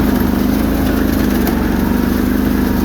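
A Bolens HT-23 garden tractor engine with a blown head gasket idles and runs steadily with a low, even throb, loud and close, with no voices.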